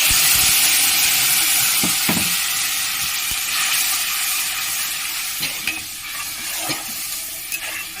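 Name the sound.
tomato paste frying with turmeric in pan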